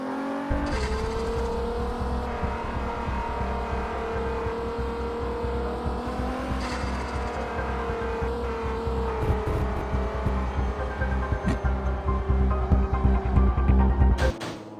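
Loud, sustained engine note from a rear-drive car in the mobile racing game Assoluto Racing, holding a steady high pitch with small rises and dips throughout, close and alone with no talk.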